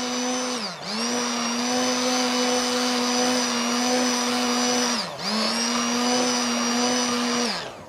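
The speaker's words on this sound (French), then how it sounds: "s'il y a des grumeaux, on donne un petit coup de mixeur" Hand blender whirring steadily through fritter batter to smooth out lumps, a loud continuous motor whine in two long bursts with a brief dip between them, no talking.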